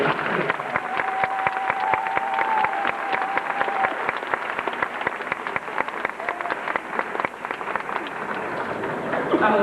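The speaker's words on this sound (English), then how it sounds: "Join with me as we applaud them again for their superb year." A graduation audience applauds scholarship students at a 1997 high school ceremony, steady dense clapping from a large crowd filling the hall throughout without a break.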